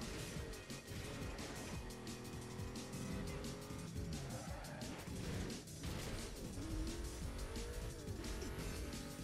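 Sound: Ford GT engine in video game

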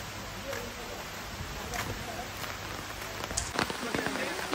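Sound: heavy rain falling in Matheran

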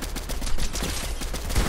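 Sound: gunfire shots

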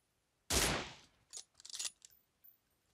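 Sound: gunfire in video game PUBG Mobile

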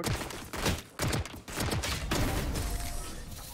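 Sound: Stinger gunfire in Valorant video game

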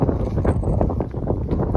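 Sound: strong wind

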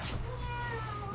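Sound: cat meowing

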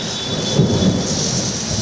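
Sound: sudden rain with thunder over a city

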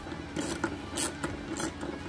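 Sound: 8mm socket ratchet loosening taillight screws

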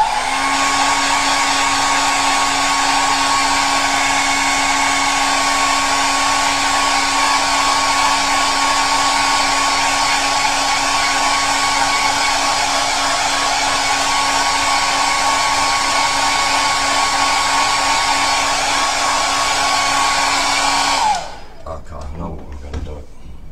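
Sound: hair dryer drying a gel plate print

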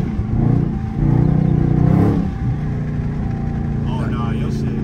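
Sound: Dodge Charger 392 Scat Pack engine revving and backfiring

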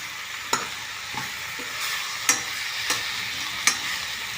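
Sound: sautéing vegetables with homemade garam masala in a pan

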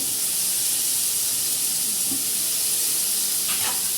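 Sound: soaked vadiyan added to hot ghee, sizzling

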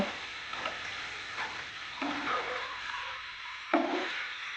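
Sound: stirring fried boiled eggs into masala

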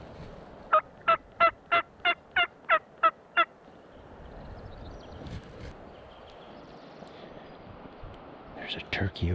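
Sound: wild turkey gobbling

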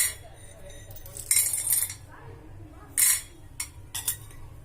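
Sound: spoon adding roasted gram into a cooking pot

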